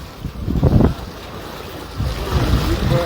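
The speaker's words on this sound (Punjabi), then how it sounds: "ਪਾਣੀ ਦੇਖੋ ਬਹੁਤ ਜ਼ਿਆਦਾ ਬਹਾਅ ਆ ਇਧਰੋਂ" Strong floodwater rushes past in a flood-hit area of Punjab, a steady close roar of broadband water noise with wind buffeting the microphone and a few brief louder bursts.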